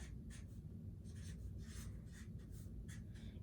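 Writing out an equation by hand, a faint scratchy pen or pencil stroking in quick, uneven bursts over a steady low background hum.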